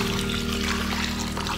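Water pours steadily onto dusty garden ground in a short, continuous splashing rush, close and fairly loud.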